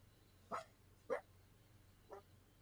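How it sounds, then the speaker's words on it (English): Lively household dogs give three short barks spaced about a second apart. They sound fairly faint and distant against a quiet room hum. "my dogs are kind of wild."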